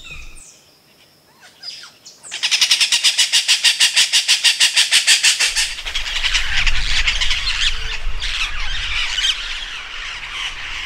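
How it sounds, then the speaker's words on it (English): A flock of parrots in Costa Rica erupts into loud, rapid, repeated squawking calls, followed by a continuous noisy chorus of harsh cries and chatter with low rumbling underneath. "The sight and sound of a flock of parrots happens every day here"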